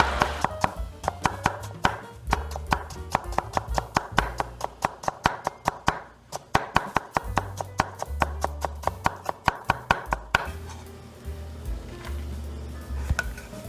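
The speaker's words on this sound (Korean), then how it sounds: "먼저 오이를 채썹니다" A knife julienning cucumber on a cutting board makes rapid, regular chopping taps in quick bursts, close and crisp, pausing briefly midway, with soft music underneath and no talking.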